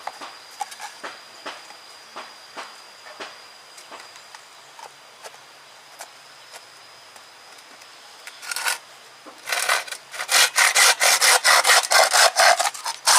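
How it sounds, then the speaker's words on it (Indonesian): A saw cutting through bamboo to split it in two while making a traditional barongan mask, with faint scattered taps at first, then loud, rapid rhythmic rasping strokes close by toward the end. "ini dipotong."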